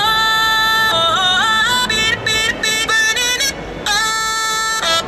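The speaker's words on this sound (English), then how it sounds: "So with that plugin I can distort or add distortion to the vocals." A solo singing voice with gritty tube-saturation plugin distortion, sustained bright notes broken by short gaps, loud and close.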